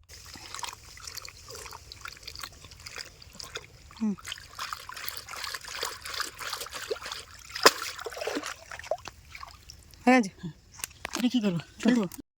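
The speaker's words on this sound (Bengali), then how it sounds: "সমস্ত সবজিগুলিকে একদম পরিষ্কারভাবে ভালোভাবে ঘষে ঘষে ধুয়ে নিয়েছি" Chopped vegetables in a basket are washed in pond water at a ghat, with faint trickles, dribbles and small splashes close by, broken by occasional voices.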